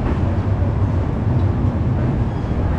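The Kavi Guru Express rumbles along after departure, a loud continuous roar of wheels and carriage noise with no voices and no breaks.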